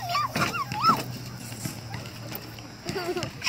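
A small child imitates a puppy barking with high, yelping voice sounds near the start, followed by quieter chatter and a faint steady hum.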